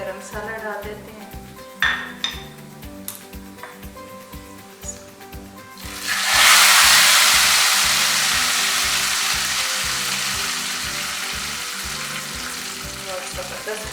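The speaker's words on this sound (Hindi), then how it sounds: "तड़का तैयार हो चुका है। गरम मसाला डाल देते हैं।" Tarka of curry leaves, garlic and white cumin crackling in hot oil for moong masoor dal, with a few stirring clinks before a loud burst of sizzling as garam masala goes in, then a steady hiss that slowly fades.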